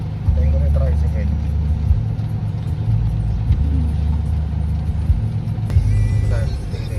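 A motorized tricycle's mid-pitched engine hums steadily on a road, passing close by with a constant drone while a voice speaks over it.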